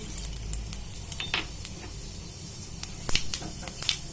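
Half a teaspoon of sesame seeds dropped into two spoons of hot oil in a kadai, giving a soft, steady sizzle with light crackles and a few sharper pops and spatters near the end, close by.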